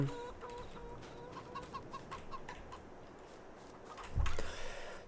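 Chickens clucking in the Farming Simulator video game, a steady run of soft, rhythmic clucks and murmurs from a flock, fairly close, with a brief louder thump near the end.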